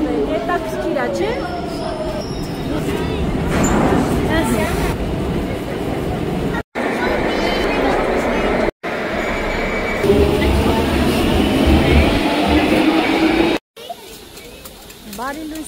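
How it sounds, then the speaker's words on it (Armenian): A London Underground metro train at a platform with glass screen doors, heard as a steady rumble with rising and falling whine and some squeal, broken by brief dropouts, with people talking over it. "Մետրոյում ենք, բայց այս մետրոն ուրիշ ձևի մետրոյ է"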